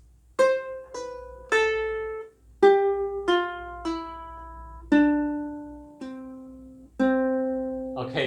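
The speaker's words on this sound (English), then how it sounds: "so if we are doing pull-offs, it will sounds like this." A ukulele plays a melody of about ten single plucked notes with pull-offs, each ringing and decaying in a steady, unhurried rhythm, close and clear with no talking.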